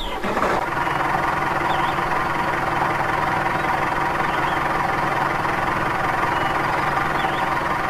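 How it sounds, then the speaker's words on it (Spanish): Tractor engine in Woodcutter Simulator 2013, a steady mid-pitched idling drone with a faint mechanical hum, constant and close throughout after a brief start-up at the beginning. "Ya tenemos un tractor, chavales."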